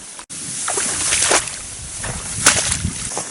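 Slow steps sloshing through knee-deep water near a lake, each stride giving a soft splash and swish of disturbed water, fairly close and steady with no talking.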